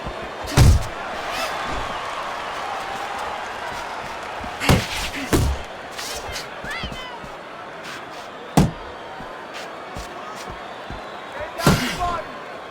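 Punches landing in the boxing video game Fight Night Champion, several sharp thudding impacts scattered irregularly over a steady crowd murmur, with commentary talking throughout.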